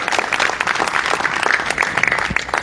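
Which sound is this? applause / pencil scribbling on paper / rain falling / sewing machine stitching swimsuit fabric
applause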